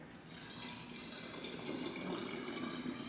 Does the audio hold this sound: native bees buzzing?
no